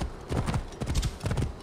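Galloping horse hooves in Assassin's Creed Origins beat out quick, repeated clip-clop bursts, loud and close, in an even running rhythm with no talk.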